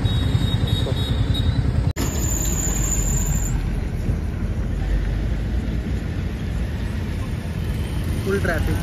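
Heavy road traffic at a busy junction, a dense steady roar of passing vehicles and engines with a brief cut partway through, close and continuous.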